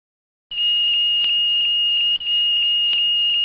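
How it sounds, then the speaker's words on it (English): A loud, piercing Boeing 737 lavatory smoke detector alarm sounds steadily and close, briefly interrupted once before continuing, with faint clicks underneath. "The smoke detector audible alarm and red alarm indicator light come on"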